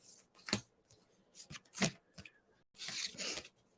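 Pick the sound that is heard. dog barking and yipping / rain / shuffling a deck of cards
shuffling a deck of cards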